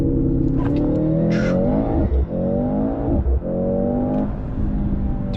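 A 2025 Mercedes-AMG C63 S E, a 680 hp plug-in hybrid, surges hard through an acceleration test, its engine note rising in loud steady sweeps broken by two quick gearshift dips, close and continuous without voices.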